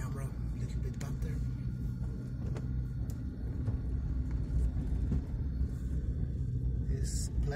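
A car drives in second gear with a steady low engine rumble inside the cabin, and a person talks over it.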